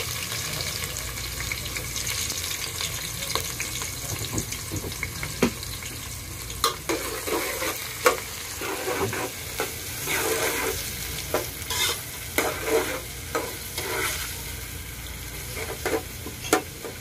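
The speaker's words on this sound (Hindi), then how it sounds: "अब हमारे प्याज तकरीबन हाफ फ्राई हो गए हैं।" Onions frying in hot oil, a continuous dense sizzle with frequent sharp scraping and clinking from stirring, steady and close throughout with no voices.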